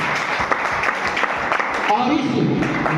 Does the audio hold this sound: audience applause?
yes